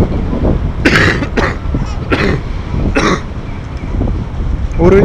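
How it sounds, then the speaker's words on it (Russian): Several separate coughs and throat-clearing bursts, close to the microphone, spaced irregularly over steady background noise, with one more starting at the very end. "Уровень кашля нормальный."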